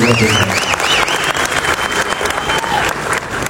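A crowd at a film premiere applauds the gift givers with loud, continuous clapping that holds steady throughout, with a voice speaking over it.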